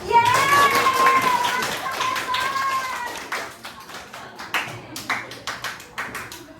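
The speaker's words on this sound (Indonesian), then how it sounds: "Tepuk tangan dulu." A class of high school students claps together during an English lesson, a dense burst of applause at first that thins into scattered, irregular claps, with some classroom voices mixed in near the start.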